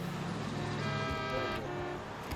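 Car horns honk and toot continuously from vehicles crossing a newly opened overpass in Ufa, with a steady horn tone holding over traffic noise and a faint voice in the background.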